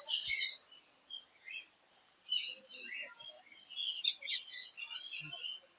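Small birds chirp and tweet in bursts inside an enclosed, netted bird sanctuary in Ooty, planted for a jungle feel with small waterfalls, the calls fairly close and bright with short quiet gaps between them.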